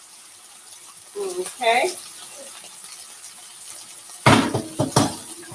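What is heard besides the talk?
draining pasta water in the sink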